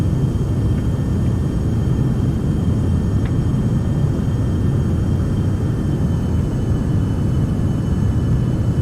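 A Beechcraft Premier 1A jet climbs out after takeoff in X-Plane 11, its engines giving a loud, steady, broadband roar that stays even throughout.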